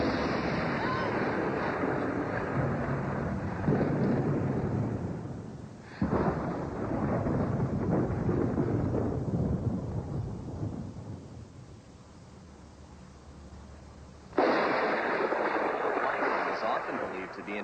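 Thunder rumbles from a television special about lightning, a loud, continuous low roar that swells in long waves, dipping briefly and surging back at full strength near the end.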